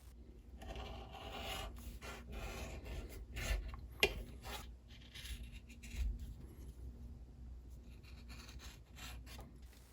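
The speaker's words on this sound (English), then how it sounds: "I'll just give a light bevel to those edges so they're not sharp on top" Soft, repeated rasping strokes beveling the edges of a vintage Fender Tweed amp handle by hand, close and fairly quiet, with an occasional light knock.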